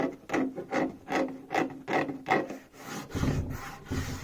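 A painted cabinet surface being rubbed by hand, a series of regular, rasping strokes about two to three per second, close and fairly quiet, with a few heavier scrubbing passes near the end.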